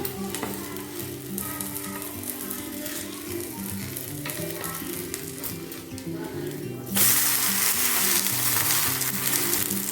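A multigrain adai pancake, made with ghee, cooks on a pan with a steady close sizzle, faint scrapes and soft speech underneath, then a sudden louder burst of hiss and crackle near the end.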